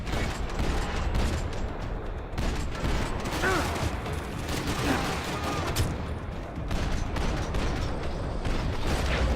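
Sustained firefight in Max Payne 3 on hard difficulty, with overlapping gunshots, bursts and impacts crackling throughout, loud and close, with a voice talking now and then over the shooting.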